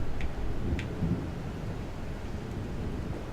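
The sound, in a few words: rain and thunder in video game The Evil Within DLC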